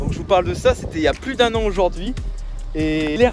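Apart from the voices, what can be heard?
No distinct noise like a dog, phone or traffic.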